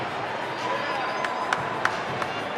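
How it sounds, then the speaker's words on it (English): A crowd at a GameStop Expo event in Las Vegas applauds and cheers for a local Xbox prize winner, a fairly faint wash of clapping with a few sharper claps standing out. "Big applause for Michael."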